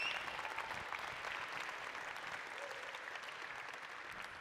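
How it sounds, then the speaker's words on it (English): Applause from an outdoor festival audience in Union Square, San Francisco, a dense, steady wash of clapping held at a fairly distant, even level for the whole stretch. "So give another clap for Steve."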